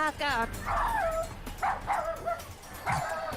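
A dog barks and yips in short bursts inside the Sherlock Holmes: The Devil's Daughter video game, several sharp calls spaced across the moment, fairly loud and close with game ambience underneath.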